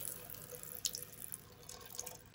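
Hot water runs from an opened tap during a water heater and expansion tank job, a steady hiss with faint drips and small splashes, fairly quiet and alone.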